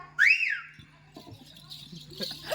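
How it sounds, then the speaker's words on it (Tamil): A person gives one short, loud rising-and-falling whistle, followed by lively talking and background noise in a comedy scene. "விசில் அடிச்சுட்டே பேசுவியா?"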